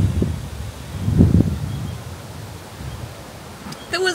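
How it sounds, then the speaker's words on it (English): Low rumbling wind buffets the microphone in a couple of gusts, strongest in the middle, then settles into a softer steady rush. "the gusts of wind that are coming through"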